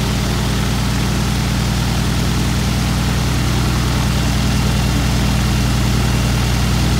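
A UL520iS engine idles on a Cozy Mk. IV aircraft on a cold day, a loud, steady low throb with an even pulsing rhythm that holds throughout, with no voices.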